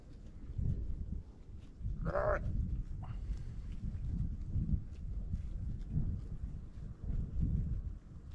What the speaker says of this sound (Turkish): Bilmiyorum kuzuların sesi size geliyor mu?